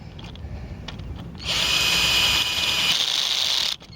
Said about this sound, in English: So if I just keep drilling down, I should be fine.